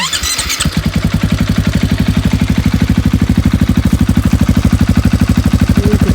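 A motorcycle on its stock muffler cranks and fires, then settles into a steady, loud, evenly pulsing idle close by. No one speaks while it runs.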